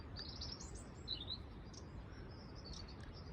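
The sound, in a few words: carrion crow and magpie calling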